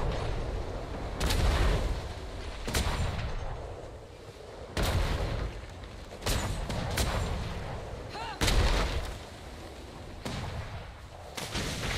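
Loud cannon shots boom repeatedly at irregular intervals during a naval battle in a video game, each blast sharp and heavy, with faint voices between them.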